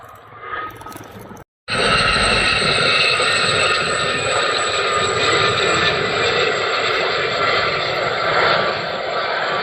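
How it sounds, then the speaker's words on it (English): A Gazelle HP2 helicopter flies at the RAF Cosford Airshow 2024, its loud, steady turbine whine and rotor noise starting abruptly after a brief gap of quieter crowd sound. "it's a Gazelle HP2 model that was used for 25 years by the Empire Test Pilot School"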